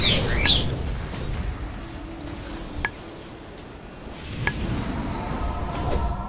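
Video game birds chirp in short, bright bursts near the start and again toward the end, over a faint ambient hiss, with a couple of sharp clicks in between.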